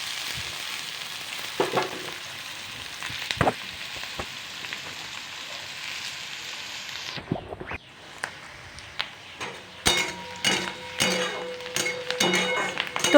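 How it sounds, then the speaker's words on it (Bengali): Onions frying in a pan for a Bengali potato and cauliflower curry, a steady sizzle running throughout, broken by occasional clinks and stirring scrapes, with busier clattering toward the end. "এখন আমি পেঁয়াজগুলিকে ফ্রাই করে নেব লাল লাল করে"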